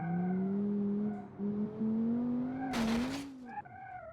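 Engine drone of a 1990s four-door hatchback police car driving in a racing video game, a steady hum that shifts in pitch with a brief loud skid or crash burst near the end.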